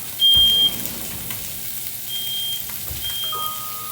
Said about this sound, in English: And close this smoke alarm off.